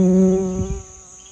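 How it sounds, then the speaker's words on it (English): Bees buzzing in an autumn garden, a close steady drone with a clear tone lasting just over a second and fading slightly, no voices. "Lots of bees still, which is good."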